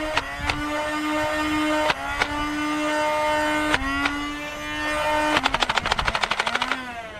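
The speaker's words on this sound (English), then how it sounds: "as the only flywheel blaster in the N series line, the Sprinter somehow fires more consistently and straighter than any other N" Nerf N-Series Sprinter, an electric flywheel bullpup blaster, firing foam darts: a steady motor whine carries through a few single shots, then a quick rapid burst of dart launches near the end, close and clear.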